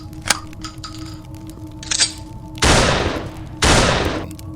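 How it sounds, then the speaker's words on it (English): A shotgun fired twice in a dramatized Shadows of Brimstone board game story, two loud, close, broadband blasts about a second apart, each decaying into a brief rumble after a few faint cracks and clinks. "Well, try this one for size, says Beaumont, drawing his shotgun."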